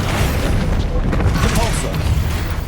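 A Bombarda explosion spell from Hogwarts Legacy gameplay, heard as a dense, loud, rumbling blast that keeps roaring for the whole stretch, with a voice speaking over the din.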